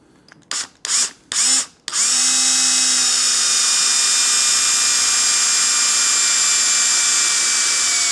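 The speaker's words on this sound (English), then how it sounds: "now we're going to drill this out. You can use a number 9 drill or a 3/16" A power drill boring out a Triumph Bonneville Bobber handlebar part with a number 9 bit: a few short trigger blips, then a loud, sustained high whine held steadily close by.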